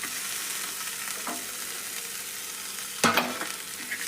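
Radish pods with tomato fry in hot oil, a steady close sizzle broken by a couple of sharp scraping stirs, the louder one near the end.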